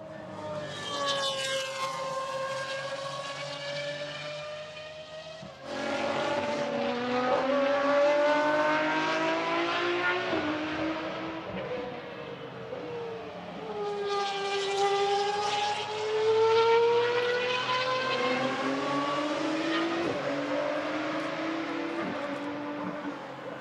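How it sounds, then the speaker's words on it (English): Pagani Huayra R race cars on a circuit sweep past entering turn three, engines braking down and then climbing hard back on the power in long rising howls, loud and passing by, one after another. "the answer in this context is another of the Pagani Huayra R's that comes into turn three"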